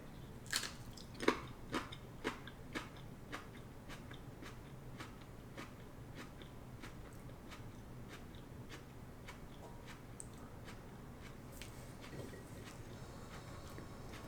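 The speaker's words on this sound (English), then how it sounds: "I'm trying to chew it because this thing doesn't have slow build." Someone bites and chews a Texas Chocolate Bonnet hot pepper up close; a few crisp crunches come early, then quieter, steady chewing with no talking.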